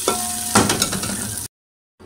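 A hot tadka tempering for mong masoor daal sizzles loudly as it is poured in, a burst of crackling frying noise that then cuts out abruptly, with a faint return of sizzle at the end.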